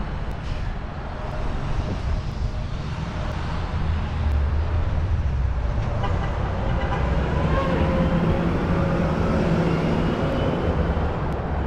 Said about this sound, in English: as that bulldozer truck went by